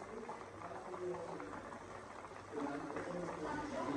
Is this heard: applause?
no